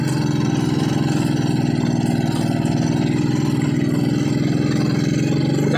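A motorcycle engine idles steadily on a sandy road, a continuous close, even putter with a fast regular pulse and no voices over it.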